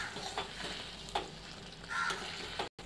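Green peas being stirred and fried in a pan for a dry Maharashtrian pea curry, with steady soft sizzling, a few scraping strokes of a spoon and a brief dropout near the end.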